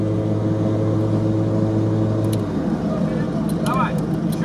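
Off-road 4x4 engine idling with a steady low drone, then pulling away as the tone shifts and roughens, with faint squeaks or creaks near the end.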